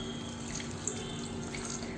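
Half a cup of water saved from boiling mutton is poured into a pan of mutton masala for Andhra mutton fry, giving a short, steady splashing trickle close up.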